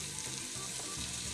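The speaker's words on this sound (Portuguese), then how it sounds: "eu vou mandar essa carne para fazer aquele queimadinho no fundo dessa panela com essa carninha" Chunks of beef sear in hot oil at the bottom of a pot for a ragu, a steady close sizzle and crackle with a faint stir partway through.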